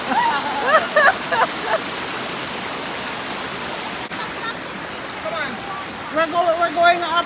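A river waterfall in Jamaica gives a continuous, loud rushing roar throughout, with voices talking over it near the start and again toward the end.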